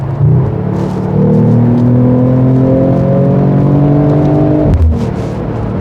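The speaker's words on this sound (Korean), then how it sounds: "실내로 이제 엔진 사운드가 그대로 유입이 되는 거죠." A Mercedes-Benz CLE 53 AMG Cabriolet engine revs loudly with the top open, its pitch climbing steadily through a long pull, then dropping sharply with a gear change before building again.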